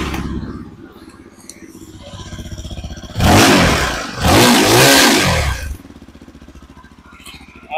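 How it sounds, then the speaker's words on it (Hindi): A 2024 Yezdi Adventure motorcycle engine cranks and catches, then revs in two strong bursts before settling to a quieter idle, with someone talking nearby before and after the revs. "बाकी इस बाइक का मैं एक बार आपको साउंड सुना के दिखा देता हूँ।"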